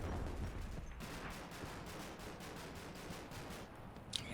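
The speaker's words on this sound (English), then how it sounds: "that looks like Mark 19 fire coming in" Mark 19 grenade launcher fire from a Humvee in Combat Mission: Black Sea, a faint, distant string of rhythmic thumping bursts repeating at an even pace, ending with a sharper pop.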